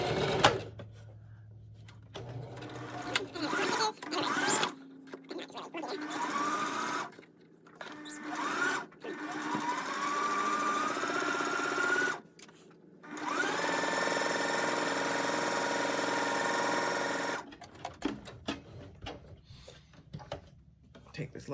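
A sewing machine stitches mask fabric in several short whirring runs separated by pauses, with a person talking between and over the bursts.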